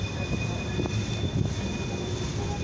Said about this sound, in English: We got a coil train,